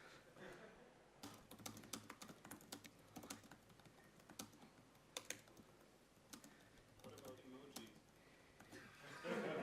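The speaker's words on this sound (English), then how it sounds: "let's see if I try typing something very, very long" Long run of typing on a computer keyboard, irregular bursts of sharp key clicks with brief pauses, fairly faint, with light background chatter.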